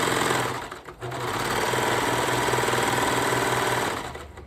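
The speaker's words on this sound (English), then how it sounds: "we're just going to go ahead and serge that elastic down" A serger stitches elastic down onto a leotard edge, its rapid mechanical chatter running close and steady after a brief pause near the start, with no voices.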